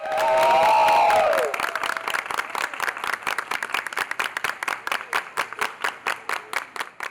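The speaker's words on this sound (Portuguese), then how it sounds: "Na saída do hospital, ele foi aplaudido pela equipe médica" Hospital medical staff applaud a recovered coronavirus patient as he leaves; a brief tonal sound opens, then a small group claps in a steady, rhythmic beat, close and distinct.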